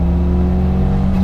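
An Audi S4 with a home-built 2.0L stroker engine accelerates hard, a loud, close engine drone rising steadily through a short pull.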